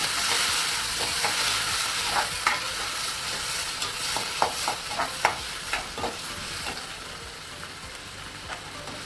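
Onion and tomato sauté in oil in a pan, a continuous soft sizzle broken by a string of sharp spoon clicks and scrapes as the pieces are stirred.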